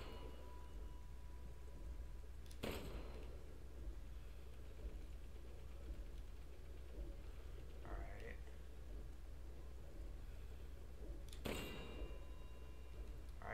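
Metal bells in Resident Evil Village ring out when shot, two sharp bright clangs several seconds apart, plus a softer one between, over a low rumbling game ambience.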